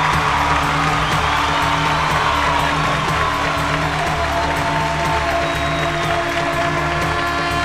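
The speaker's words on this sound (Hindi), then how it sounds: "जोरदार ताली से स्वागत करेंगे धर्मेश बाबू" Loud, sustained applause and cheering from a studio audience on a Bhojpuri music contest show welcome a contestant, a dense steady roar of clapping with no break.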